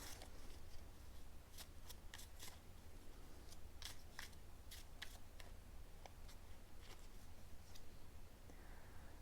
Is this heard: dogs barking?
no